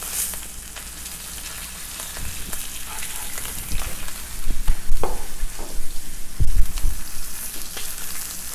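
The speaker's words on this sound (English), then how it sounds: "I usually like to sear the fat cap" Steak fat cap pressed into a very hot, oiled pan gives a steady broad sizzle and spatter throughout, swelling louder and crackling harder in the second half with a few sharp pops near the end.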